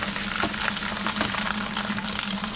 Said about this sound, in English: So I'm going to take out the fried chunks from the oil and then set it aside.